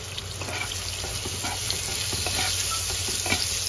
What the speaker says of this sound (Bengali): এবার নাড়াচাড়া করে একটু কষিয়ে নেব